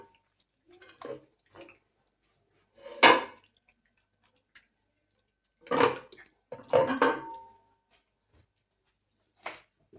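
Ingredients dropped into a cooking pot in a home kitchen: a few separate soft clunks and rustling clatters spaced apart, with quiet gaps between them and no talking.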